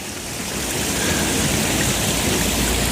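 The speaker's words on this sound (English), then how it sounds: "look at this beautiful waterfall right here" A waterfall pours in a steady, dense broadband rush of flowing water, loud and close, swelling slightly after the first second and continuing unbroken with no voices.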